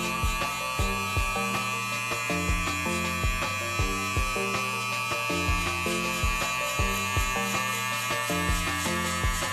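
Electric hair clippers fitted with a number 2 guard cutting hair during a skin fade, a steady close buzz pulsing in short repeated strokes throughout.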